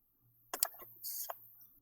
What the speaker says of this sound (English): we just- heard the typing and stuff like real loud